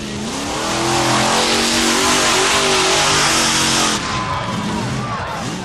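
A loud, heavy 1991 monster truck engine revs hard and roars continuously, pitch climbing and falling, then drops to a rough rumble near the end.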